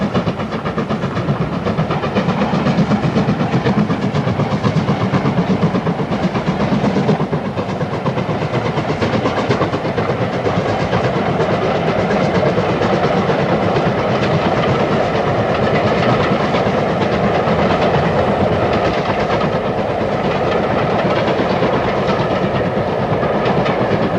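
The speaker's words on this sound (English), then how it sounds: "Black 5, number 5305, is seen returning tender first alongside Loch Elt during the summer of 1985." Black 5 steam locomotive number 5305 runs tender first beside Loch Eilt on the West Highland Line in summer 1985. A loud, continuous rolling rumble with rhythmic rail clatter carries through the whole stretch, with no voices.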